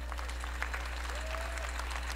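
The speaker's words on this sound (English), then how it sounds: "Let's give them all a round of applause." Audience applause for game developers at an EA presentation, a steady wash of clapping from a large crowd over a constant low hum, with no voices standing out.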